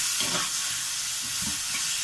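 Tomatoes are stirred into biryani masala frying for mushroom biryani, a loud, close, continuous hiss of sizzling oil with soft churning thuds of the mixing underneath; no voices.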